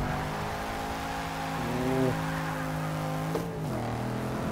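A drift-tuned car in Forza Motorsport 6 revs hard, its engine tone climbing and dropping through gear changes with a sharp shift near the end, loud and close with no voices.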